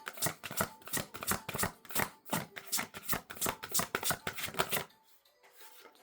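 Oracle and tarot cards are shuffled by hand in a rapid, steady run of crisp riffling bursts, close and clear, then stop near the end, leaving quiet.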